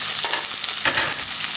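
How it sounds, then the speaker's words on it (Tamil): Small shallots and garlic sizzle in hot oil in a pan for a Tamil fried-fish kuzhambu. The frying crackles steadily up close, and a brief stirring scrape comes partway through. "வெங்காயமும் பூண்டு நல்லா வதக்கிக்கோங்க"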